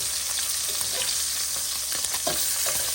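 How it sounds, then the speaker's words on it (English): Salmon fillet searing skin side down in a hot pan gives a close, continuous sizzle and crackle, with small spatters and no talking. "So now we're going to let this finish cooking and searing on the other side, the skin side."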